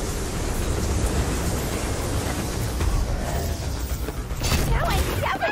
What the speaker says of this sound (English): The train's pulling away.